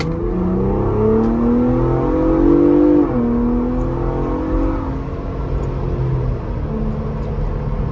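A Ford Bronco Raptor pulls away and accelerates, its engine note rising in a loud steady drone that sweeps upward, dips at a gear change and settles into a continuous rumble, heard from inside with no talk.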